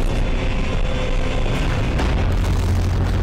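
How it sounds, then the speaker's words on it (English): A huge explosion in a Skibidi Wars animation fills the whole clip with a dense, loud roaring blast and rumble that stays constant throughout. "Oh, that was a big explosion."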